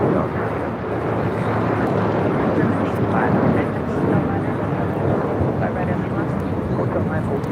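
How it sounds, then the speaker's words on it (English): An Alaska Airlines Boeing 737-900ER takes off from runway 25 right at LAX, a broad steady jet roar that holds loud and constant throughout, with a voice talking over it. "362 taking off to Fort Myers on a 737-900ER"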